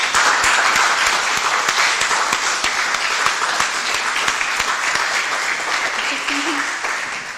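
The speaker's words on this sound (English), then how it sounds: "an applause for them as well" Dense applause from a sizable conference audience fills the room, sustained and loud before tapering slightly toward the end, with voices mixed in.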